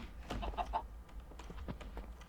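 Minecraft chickens cluck in a few short, soft bursts in a game world, scattered over a couple of seconds with quiet gaps between them. No speech is heard.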